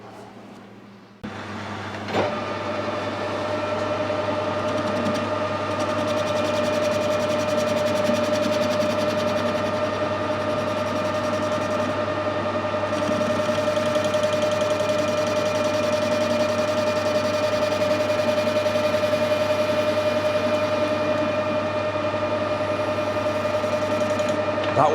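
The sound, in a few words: lathe squaring the end of a bar for a motorbike headstock nut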